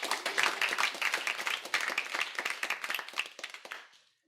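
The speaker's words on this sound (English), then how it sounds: "Let's give a round of applause for the newbies here." A small audience at an iOS developer meetup claps for first-time attendees, a fairly quiet, crisp patter of individual hand claps that thins out and stops near the end.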